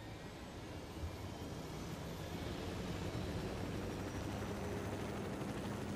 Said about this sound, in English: And I'm taking their chopper.